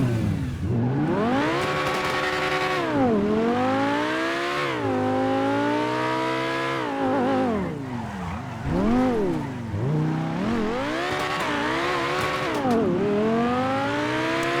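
Obey 9R sports car, modeled on the Audi R8 V10, in GTA 5: a loud engine and exhaust revving up and down repeatedly, with rising and falling pitch sweeps and no talking.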